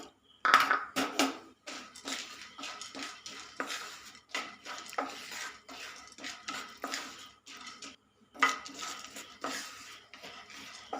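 Fried gram roasts in a pan as a spoon stirs and scrapes, rattling the dry lentils against the metal in steady bursts, close up with no talking.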